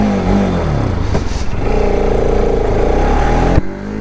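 A modified Bajaj RS200 motorcycle accelerates hard on a highway, its engine roaring loud and steady through the gears with one brief shift dip, wind rush over the top, heard from the rider's position.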